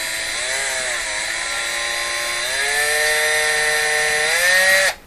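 An electric grinder on a Canadian Admiral J104X/J105X console restoration runs steadily for about five seconds, a loud whining motor tone that shifts pitch slightly as it works the metal, then cuts off abruptly.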